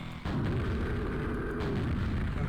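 An explosion in the Quake Threewave CTF video game sets off a sudden loud blast that keeps rumbling steadily for about two seconds. No one speaks.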